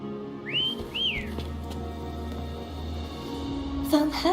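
Two rising-and-falling whistles sound in the Wuthering Waves video game over a steady ambient music bed, then a sharp bright chime closes the passage.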